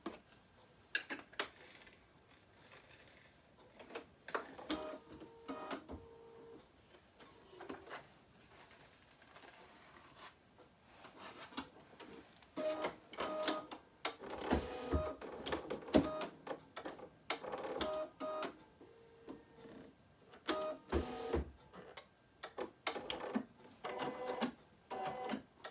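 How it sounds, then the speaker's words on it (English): An embroidery machine stitches a yellow satin outline, producing a quiet, steady run of rapid ticking needle strikes, with denser, louder passages toward the middle. "now we can change our thread back to the yellow and do that satin outline stitch around the yellow egg."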